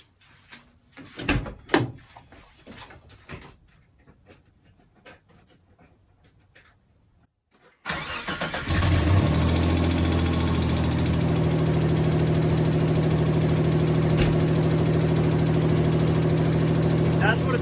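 Some clicks and handling knocks, then a first-generation Mitsubishi Montero engine cranks and catches near the microphone, settling into a steady, loud idle with a constant low hum.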